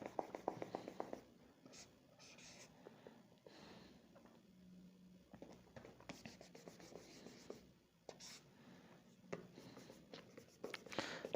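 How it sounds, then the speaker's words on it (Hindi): A marker or chalk scratches across a board while a box is drawn and numbered, in bursts of short, dry, scratchy strokes with brief pauses, close and fairly quiet. "मैं बॉक्स नंबर लिखता हूं"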